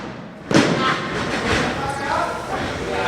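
A wrestler lands a missile drop kick in the ring during a women's championship wrestling match, giving one heavy thud followed by a rumbling arena background.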